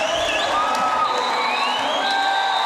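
A roller derby crowd at a World Cup bout, Czech against Indigenous Rising, keeps up loud sustained cheering with scattered whoops and shrill shouts standing out from the roar.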